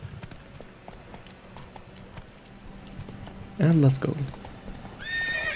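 Geralt's horse Roach in The Witcher 3 clip-clopping with rapid hoofbeats, then a loud, close neigh near the end, with someone speaking briefly over the sounds.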